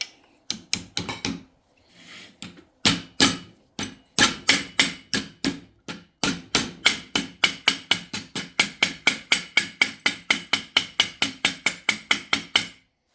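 Sharp metallic hammer strikes ring out as a TH350 transmission pump is beaten into place, irregular at first, then settling into a fast, steady run of loud, close blows.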